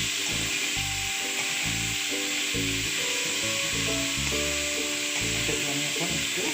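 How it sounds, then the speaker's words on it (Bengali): Fresh methi greens hit a hot pan and fry with a loud, dense, continuous sizzle that crackles steadily throughout, with faint scraping and knocking of a utensil underneath and nobody speaking. "এরপরে আমি শাকটা ঢেলে দেব।"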